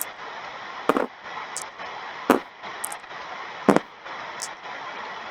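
Dice rolled during a tabletop wargame, with several sharp clattering impacts spaced out over a few seconds against a quiet background hiss.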